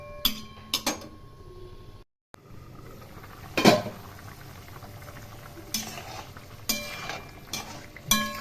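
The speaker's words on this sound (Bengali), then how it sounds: "ঝোল ফুটে গেছে" Fish curry broth with cauliflower and potato bubbling in a pot, a soft continuous simmer broken by sharp clinks and scrapes of a utensil against the pan, with a brief gap of silence early on.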